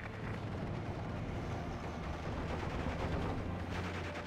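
Artillery fire in the World War II strategy game Steel Division Normandy 44, heard as a continuous dull rumble of distant shelling and booms with a steady low drone, fairly faint and without voices.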